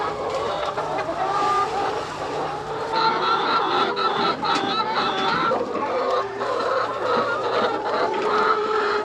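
Laying hens clucking on a farm where eggs are collected, a dense, continuous chorus of close, loud clucks and squawks from many birds.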